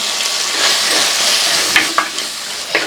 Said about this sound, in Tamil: இந்த பொடியில் போட்டு எண்ணெயில் நல்லா ஒரு வதக்கு வதக்கிட்டுங்க